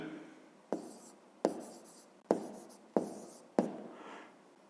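A hand writes numbers for a fifth-grade maths exercise, making five separate sharp pen or chalk taps, each with a short scratchy stroke, close and quiet in a silent room.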